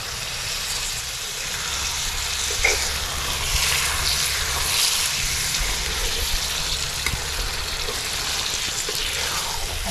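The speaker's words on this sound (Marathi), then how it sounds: "कलेजी पण आपल्याला अशी मसाल्यात चांगली परतून घ्यायची" Chicken liver frying in a masala gravy sizzles steadily and fairly loudly in a pan, a continuous hiss with occasional stirring clatter and no speech.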